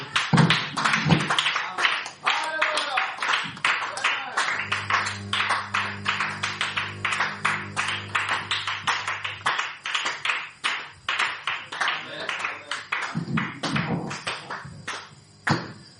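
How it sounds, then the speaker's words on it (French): A church congregation claps steadily in rhythm to acclaim the Lord, the close, crisp claps continuing for the whole stretch over a low sustained hum. "On acclame le Seigneur."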